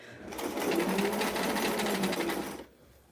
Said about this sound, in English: Okay, let's keep sewing.